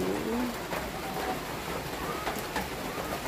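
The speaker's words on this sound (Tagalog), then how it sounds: "Ang lakas ng ulan." Heavy rain falling as a continuous dense hiss, with faint bird calls and low voices in the background.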